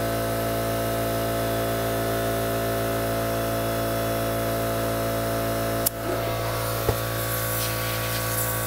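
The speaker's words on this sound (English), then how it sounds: "I apologize, the air compressor is small. It is getting ready to kick on here," A small air compressor running with a steady, loud droning hum and motor whine, briefly interrupted near the end by a sharp click and a short hiss of air.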